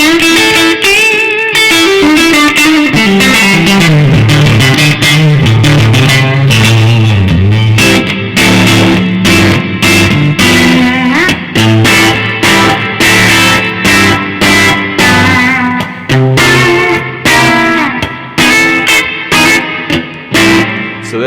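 A clean electric guitar tone played through a fuzz pedal rings out with chords and picked notes, steady and loud with a slight fuzzy edge, playing alone for about twenty seconds.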